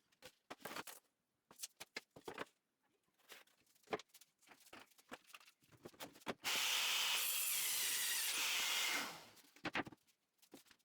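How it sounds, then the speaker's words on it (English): A circular saw cuts plywood for a workbench top in one steady, loud whining pass of about three seconds, with scraping and knocking of the boards and tools before and after. "Using a drywall square and a circular saw, I'm cutting the plywood for the tops and bottoms of the workbench."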